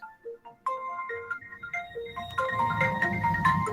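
A mobile phone rings with a bright melodic ringtone during a remote class session, the tune repeating steadily and growing fuller toward the end, with no voices over it.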